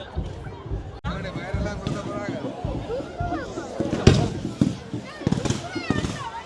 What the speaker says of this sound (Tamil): இந்த இடத்துல வான வேடிக்கைகள் எல்லாம் பாருங்க என்னமா இருக்குன்னு சொல்லி.